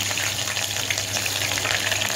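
Onions frying in hot oil inside a pressure cooker for mutton tahari, a steady loud sizzle and crackle with occasional stirring, close up and without talk.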